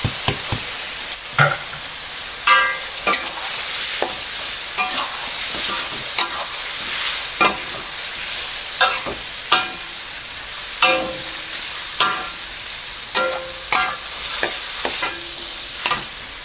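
Beef stir-fries in a pan for oseng mercon, a constant close sizzle punctuated by repeated sharp scrapes and clanks of a spatula tossing the meat at an irregular rhythm.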